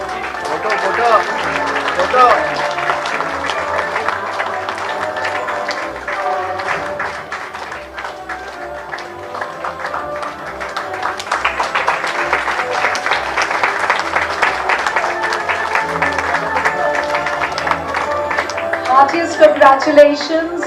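Prolonged audience applause at a formal book launch ceremony, sustained and fairly loud clapping mixed with background music and crowd voices, dipping briefly in the middle before swelling again.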